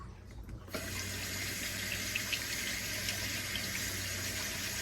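Kitchen tap water gushes into a sink while rice is rinsed, starting abruptly after a quiet moment and then pouring steadily and close, with no voices over it.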